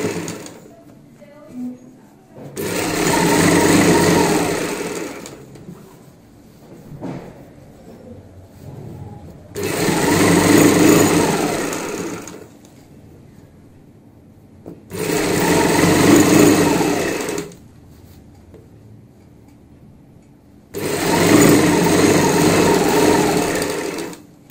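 A sewing machine topstitches folded box pleats on palazzo pants, running in four separate bursts of several seconds each with quiet pauses between them.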